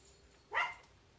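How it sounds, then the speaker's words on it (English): A single short dog bark or yip, faint and somewhat distant, standing alone against a quiet room background. "Hey, it's my dog."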